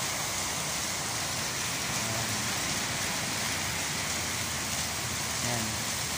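Heavy rain pours steadily and loudly in a constant dense hiss, with no letup, near and enveloping.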